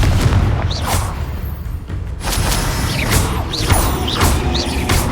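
Confringo blasting spell explosions in the game Hogwarts Legacy, repeated loud booming impacts with crackling magical whooshes, fired in quick succession amid continuous combat noise.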